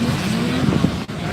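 Dirt bikes in a 25-rider College Boy motocross moto at Muddy Creek, Tennessee, with a steady, loud engine drone holding one pitch throughout and a brief dip near the end.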